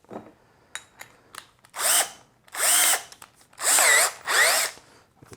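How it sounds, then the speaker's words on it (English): Power drill boring holes through a pocket hole jig into wood: a few quick light taps, then four loud sustained whirring bursts of drilling, each a second or so long, close up. "let me get my drill"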